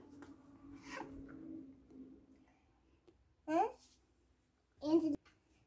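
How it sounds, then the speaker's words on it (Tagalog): A cat meows twice, fairly close and clear, with short pauses between the calls, after some quiet child babbling and background voices at home. "Pusa ni Sophia"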